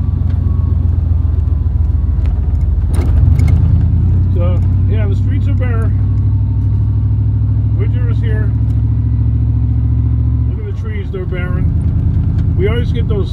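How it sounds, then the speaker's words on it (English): Steady low engine rumble fills the cab of a truck moving along an empty street on a windy day. A person speaks intermittently over the drone, with a brief louder surge early on and a drop near the end. "I'm driving this truck"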